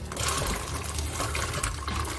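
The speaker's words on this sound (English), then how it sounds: "add in my beans gradually into the pot" Beans pouring into a pot of parboiled water, a continuous watery rush and splash lasting a couple of seconds, close up with no talking.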